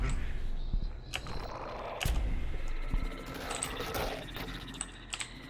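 Rapid, uneven computer keyboard typing and key clicks during a fast Devil Daggers session, close and moderately loud, with scattered sharper clacks over a low background.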